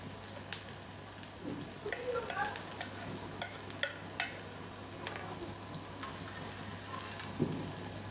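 Chopped onions frying in hot oil in a pan over medium heat, a steady soft sizzle with occasional stirring clicks and scrapes, fairly quiet and close, no talking.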